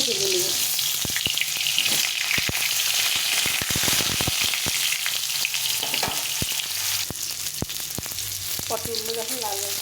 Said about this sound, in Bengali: তেলটা গরম হয়ে গেছে, আমি পটলগুলো না ছোটো ছোটো ভেজে নেব